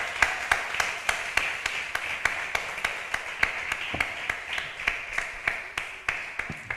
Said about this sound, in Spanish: Da un aplauso bien fuerte al Señor Jesús